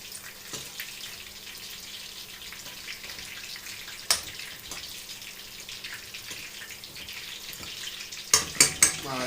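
Paste for Peshawari kebab frying in a pan, a steady low sizzle with occasional utensil clinks and a few sharp metallic knocks near the end.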